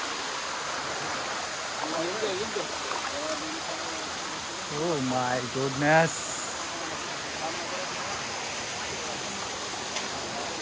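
Water rushes in a steady broadband roar at the upper point of the Shain Gong waterfall, constant throughout, while people talk and exclaim over it for a few seconds midway.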